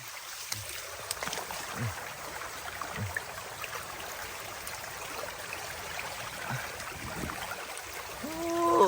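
Floodwater flows through a flooded cassava garden in Laos as a soft, continuous rushing and trickling wash, fairly faint and steady throughout, with a few faint thumps and a brief tonal sound near the end.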